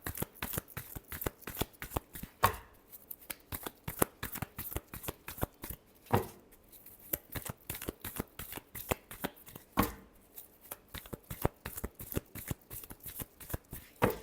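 Tarot cards being shuffled by hand, a long run of crisp rapid riffling flutters with a few louder slaps as the deck is squared, close and alone with no talking.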